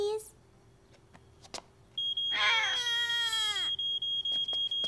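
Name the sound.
fire alarm sounding in a cartoon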